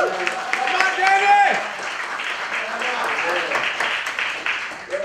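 Sunday church congregation giving a round of applause, steady crowd clapping with voices and a call from the front over it, continuing throughout.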